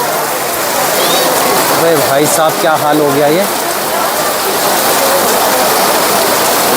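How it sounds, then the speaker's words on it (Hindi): Heavy downpour with falling hailstones at the Kedarnath temple market area, a steady loud wash of rain with rattling impacts throughout, while someone speaks briefly over it in the middle. "बहुत तेज़ बारिश आ गई है"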